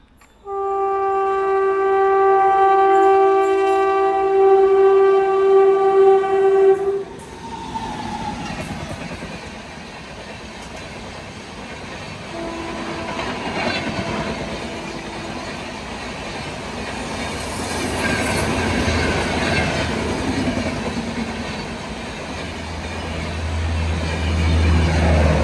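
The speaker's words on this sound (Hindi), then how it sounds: "तो बातें करते करते एक और स्पेशल फेयर यहाँ से बस स्किप करके निकली अभी।" A special fare passenger train runs through an Indian railway station without stopping; a long loud horn opens, then the steady rumble and clatter of the passing coaches carries on, rising again toward the end.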